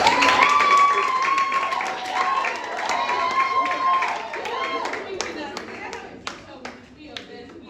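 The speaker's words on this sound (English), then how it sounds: "So a round of applause for them." A room of people claps for students at a school event on menstruation and art, a lively burst of applause that thins into scattered single claps, with a voice talking over the start.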